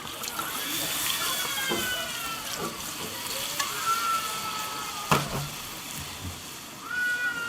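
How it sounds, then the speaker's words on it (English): Red wine poured into a sizzling Dutch oven holding browned veal cheeks, a steady frying hiss with liquid splashing and a few clinks, moderately close. "We're going to top it up with some red wine."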